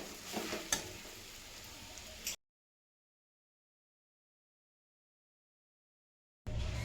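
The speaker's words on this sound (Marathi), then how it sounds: "तर आता आपल्याला घालायचं बटाटा आणि छान असं मिक्स करून घ्यायचं आपल्याला" Spiced potato filling for patties being stirred in a pan, a light sizzle and scraping for about two seconds, then a long silence before the frying resumes, quiet and close.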